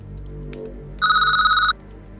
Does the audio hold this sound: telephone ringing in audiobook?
yes